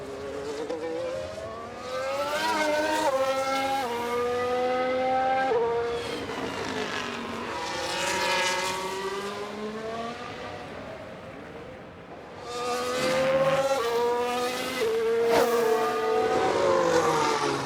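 Formula 1 race cars in the F1 Manager 23 game at Sao Paulo scream past in long high-pitched engine whines, rising and falling in pitch as they pass, with a brief lull before another loud pass.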